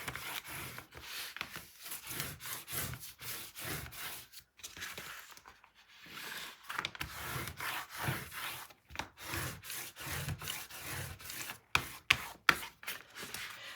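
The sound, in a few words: burnishing paper with an acrylic spacer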